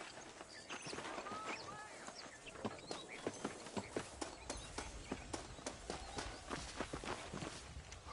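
Horse hooves clop in a steady walking rhythm in the video game Red Dead Redemption, the footfalls distinct and growing clearer over outdoor ambience with faint birds.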